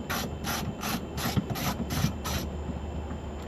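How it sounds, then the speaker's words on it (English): A 1/4 inch ratchet with a 7mm socket on an extension removing a bolt from a 2005 GMC Yukon, seven quick, evenly spaced clicking strokes close up, then quiet. "Now I have my 1/4 inch extension and ratchet with my 7mm."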